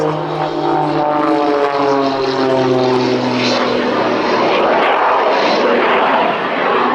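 A Pitts S-2S aerobatic biplane fitted with two added AMT jet engines, its loud propeller drone shifting in pitch as it passes close at an air show, with rushing jet roar building toward the end.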